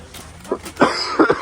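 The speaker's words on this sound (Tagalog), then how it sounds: "Inuubo na ako." A person coughing and clearing the throat up close in cold weather, a few short rough bursts over about a second.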